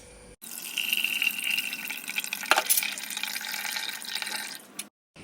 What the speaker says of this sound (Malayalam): മിക്സിയിലോട്ട് ഒരു ഗ്ലാസ് വെള്ളം ഒഴിക്കുക കേട്ടോ.